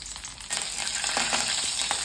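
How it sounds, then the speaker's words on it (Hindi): Garlic hits hot oil and a bright, crackling sizzle bursts up after a brief quiet moment, continuing loud and close. "सबसे पहले तेल गरम होने वाला है, मैं डाल देता हूँ थोड़ा सा लहसुन,"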